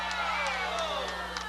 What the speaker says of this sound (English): The crowd buzzing on Kevin Davis' second shot right there